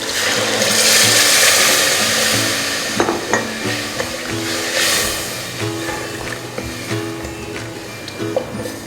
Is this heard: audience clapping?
no